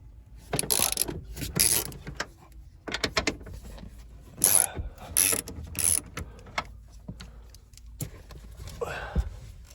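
Ratchet wrench with a 15 mm socket loosening a seat bolt in a Cadillac CTS coupe, a run of short clicking bursts with pauses between, close and fairly loud, no talking.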